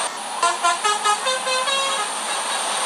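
A loud, bright bus horn from the BUSSID driving game's Jetbus 3+ mod blares close up in a rapid series of musical toots, then settles into a sustained held tone, with no talking.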